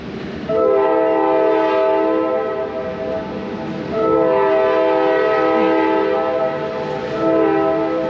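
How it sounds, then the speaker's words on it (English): A Reading & Northern steam locomotive blows its horn as the train readies to leave the station, two long loud harmonic blasts separated by a short pause, with rail rumble underneath and no talking. "There's a train getting ready to leave the station"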